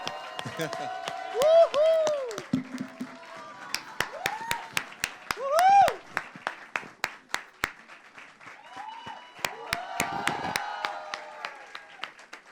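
Applause from the audience at a singer's press conference, swelling in short bursts of clapping with crowd noise, with voices speaking over it.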